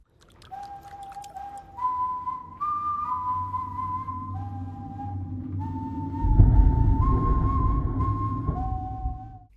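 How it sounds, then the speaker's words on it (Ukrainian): Someone whistles a slow, eerie, menacing tune of sustained notes stepping up and down in a cartoon, with a low rumble swelling beneath it partway through. "Цей свист буде лякати не тільки кота, а й глядача"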